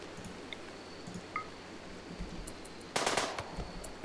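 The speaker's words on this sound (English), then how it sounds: "We're just actually gonna shoot Browning here." Colonists firing guns in RimWorld, a quiet scattering of small pops followed by one brief louder burst of shots near the end, faint and distant over low background ambience.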